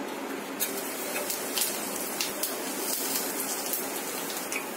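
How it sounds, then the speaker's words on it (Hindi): Cumin seeds sizzle in hot oil in a kadai, a dense, steady crackling hiss with scattered sharper pops running throughout, close and fairly loud with no talking. "अब हम इसमें जीरा डालेंगे"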